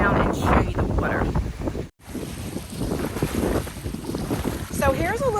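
Lake water lapping at the shore on an outdoor walk, with steady wind buffeting the microphone, a short dropout partway through and a brief chirping sound near the end.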